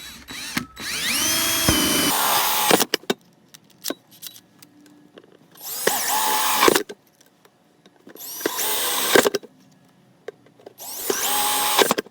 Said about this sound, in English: we got the holes drilled